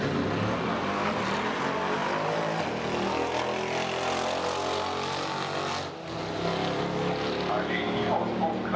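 A street or drag car at the Hockenheimring public race days accelerates hard with its exhaust flaps open, a loud sustained engine roar rising and holding for several seconds with a brief dip near the end, with voices talking over it.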